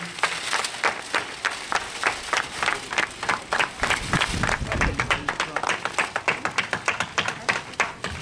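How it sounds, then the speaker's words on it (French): A small audience claps in uneven, loose bursts that swell midway and then settle into a scattered patter of separate hand claps, heard nearby during an unveiling ceremony. "On applaudit, on applaudit, on applaudit."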